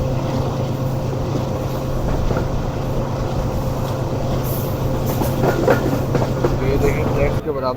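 A packed Subak Raftar railcar runs along a mountain edge toward a tunnel, giving a loud, continuous rumble with a steady engine drone and rhythmic rail clatter, while voices talk faintly beneath it.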